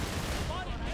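Enemy gunfire in a video game, aimed at a placed anti-air turret: a dense, continuous rattle of shots fills the whole second at steady loudness, with a faint rising whine threading through the noisy barrage.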